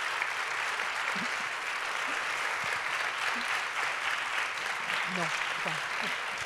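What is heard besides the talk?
applause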